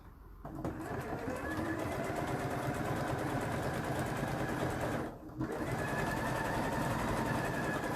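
A pedal-driven sewing machine stitches striped fabric with a steady, close mechanical whirr of rapid needle strokes. It stops briefly twice, once at the start and once midway, then resumes at an even pace with no talking.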